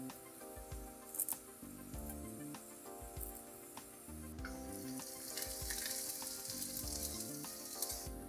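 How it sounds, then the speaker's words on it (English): Onions and curry leaves fry over a low flame, giving a steady, close sizzle throughout with a few brief stirring clinks and no voices. "we fry the onions on a low flame"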